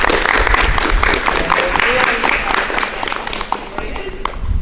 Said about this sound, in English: Can we just give each other a big round of applause first?